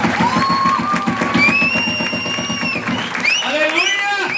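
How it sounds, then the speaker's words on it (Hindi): Church congregation clapping in rhythm during a Christmas worship service, steady repeated handclaps under sung or spoken voices and crowd noise. "Can we clap for the Jesus?"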